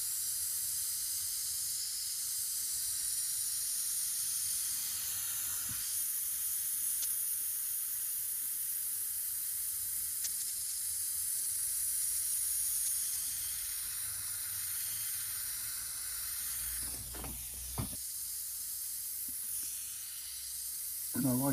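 An airbrush sprays green paint in a steady, faint, continuous hiss with a soft airy texture. A couple of brief bumps and a short low thud interrupt it near the end.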